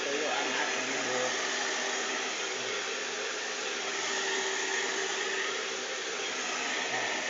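An Ansen brand hair dryer blower runs steadily and loudly up close, a constant rushing airflow with a faint voice murmuring underneath.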